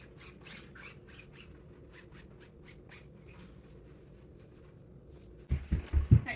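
Brush strokes smear glue through fabric stretched over a cardboard picture frame, a quiet run of soft rhythmic rubs and scrapes up close, followed by a few louder handling knocks near the end.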